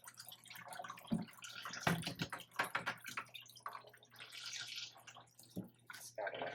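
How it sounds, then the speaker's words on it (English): Water mixed with soda ash from dyeing is dumped out, a close splashing and gurgling pour in irregular bursts with quiet drips between. "So I'm gonna just dump out this water."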